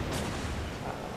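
Naval guns fire in a warship video game, a brief booming salvo that fills the short moment with dense, rumbling broadband blast noise and no speech over it.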